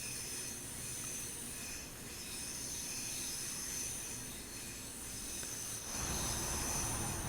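A passenger train in Train Sim World 5 runs on the Newton to Glasgow Central line, giving a continuous low rumble of wheels on track with faint squeal. The noise swells slightly toward the end, and no one speaks.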